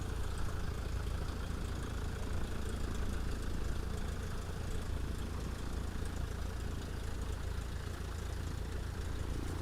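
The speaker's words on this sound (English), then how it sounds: "let's listen to this engine sounds" A Flysimware C24R aircraft engine idles steadily in a flight simulator game, a continuous, close, loud low rumble with a slight knocking texture and no breaks.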